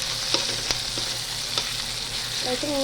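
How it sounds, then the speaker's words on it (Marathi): Onions frying in a pan with a little salt, sizzling steadily while a spoon scrapes and stirs them, giving a few sharp clinks over the continuous hiss; no one speaks. "लाल होईपर्यंत हा कांदा परतणार आहे"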